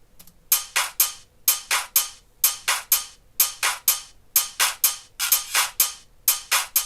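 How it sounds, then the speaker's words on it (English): Crisp, bright hi-hats in a crunk-flavoured hip hop beat, ticking in quick clustered patterns with a bouncy repeating rhythm, close and clear over very little low end, with no voices. "I added these hi-hats, which sound like this."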